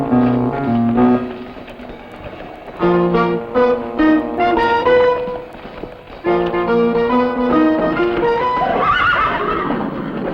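Horses neighing and whinnying loudly and close, several long, wavering calls one after another with brief gaps, some hoof clatter beneath.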